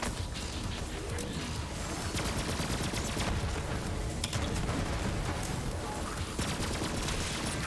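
Rapid, continuous gunfire from the video game Borderlands 3, a dense barrage of shots and impacts filling the whole stretch at steady loudness, with a voice faintly underneath.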